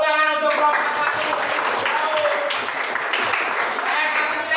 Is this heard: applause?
yes